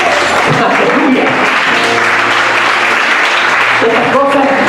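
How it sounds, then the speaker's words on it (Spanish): A church congregation applauds in a steady, continuous wash of clapping that fills the whole stretch, with voices and tonal sounds rising over it. "Aplausos al Señor."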